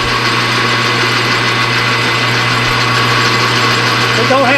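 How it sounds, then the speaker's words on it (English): A metal lathe taking a spring pass cut, a steady loud motor hum and whine running without a break, with a voice starting faintly near the end. "what we're going to do is I'm going to take a spring pass."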